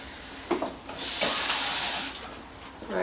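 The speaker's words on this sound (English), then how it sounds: "I'm just going to put some water in it." Tap water pouring into a cooking pot for a chicken and rice dish, a steady splashing rush close up that swells and fades over a few seconds.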